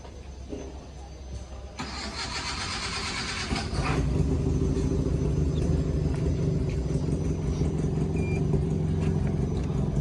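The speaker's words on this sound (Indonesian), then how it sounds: "kemudian nyalakan mobil." A conventional car engine cranks and catches, then settles into a steady, loud running rumble with the exhaust hooked up to an extraction pipe in a vocational school workshop. The start comes near the beginning and no talk is heard.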